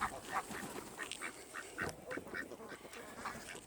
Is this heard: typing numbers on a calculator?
no